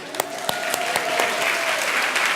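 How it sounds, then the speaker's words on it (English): Audience at a brain-training seminar breaks into dense, steady applause from many hands, filling the room evenly for a couple of seconds with a few sharper claps standing out near the front. "Okay, give your group a round of applause."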